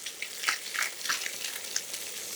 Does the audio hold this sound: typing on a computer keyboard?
no